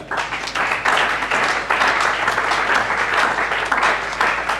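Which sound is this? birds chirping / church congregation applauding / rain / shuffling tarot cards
church congregation applauding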